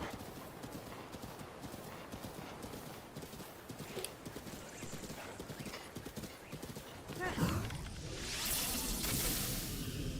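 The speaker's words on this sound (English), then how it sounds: "Where you at, horse?" Horse hooves clip-clop in a steady galloping rhythm inside a video game, with a whinny and a whooshing rush near the end, all running under continuous talk.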